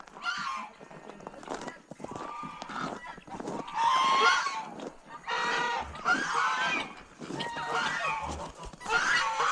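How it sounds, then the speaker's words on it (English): Farm fowl including guinea fowl and a peacock calling on a frozen winter morning, with loud honking, screeching cries in uneven bursts, some near and some farther off. "Oh, now we're getting some birds."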